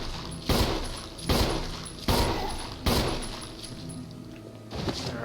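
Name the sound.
gunshots shooting zombies in Resident Evil video game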